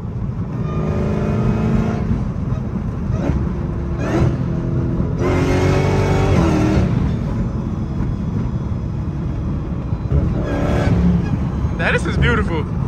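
A Dodge Hellcat with a newly fixed exhaust sends out a loud, continuous rumble with repeated surging bursts as the throttle is blipped, and voices mix in with the engine noise.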